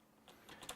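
Keystrokes on a computer keyboard while entering terminal commands, a few quiet clicks building toward a couple of sharper taps near the end, with no talking.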